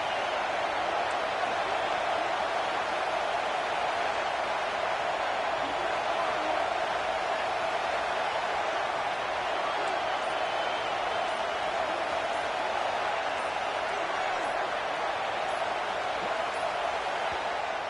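A stadium crowd at a college football game fills the air with a steady, unbroken roar that stays level from start to finish, with no distinct cheers standing out.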